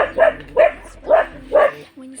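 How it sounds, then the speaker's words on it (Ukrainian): A dog barks four times in a steady rhythm, close and fairly loud, each bark short and sharp, followed by a faint whine. "Собака"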